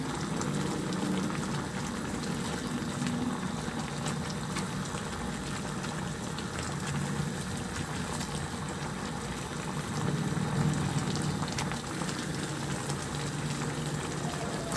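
A covered pot of tilapia with pechay, green chili and bird's eye chili simmers steadily, giving a constant bubbling, hissing boil that stays fairly loud and even with no talking.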